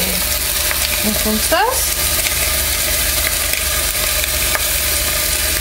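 Sliced onions fry in a pan over low heat with a steady, soft sizzle, joined by brief scraping stirs. A voice speaks briefly near the middle.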